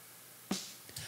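A single snare drum hit, high-passed ahead of a compressor, snaps out bright and close, followed by a couple of softer trailing taps and a faint noisy tail.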